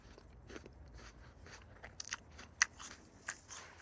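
Crisp, close crunching bites and chewing into a fresh apple, a few sharp snaps spaced out over a few seconds, heard alone without talk.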